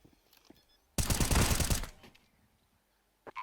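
A burst of gunfire in the Counter-Strike video game, a loud, dense rattle of shots lasting about a second within an otherwise quiet stretch, followed by a faint click near the end.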